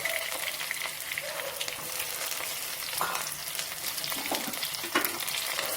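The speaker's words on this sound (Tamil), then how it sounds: "வெங்காயத்தை நல்லா வதக்கிக்கிட்டு பாருங்க, ஒரே ஒரு தக்காளி" Onions and a single tomato sauté in a pan for village-style sambar: a constant hiss of frying with occasional scraping stirs of a spoon against the pan.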